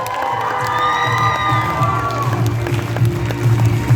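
Crowd at a red carpet for a children's short film festival, a loud, continuous wash of cheering, whooping and applause with excited children's voices and shouts rising over a steady low hum.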